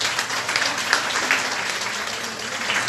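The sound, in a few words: audience applause at a conference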